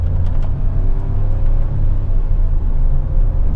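A Hyundai i20 N-line pulls under acceleration with a deep, steady engine rumble and road noise inside the cabin, loud and continuous, with a few faint clicks on top.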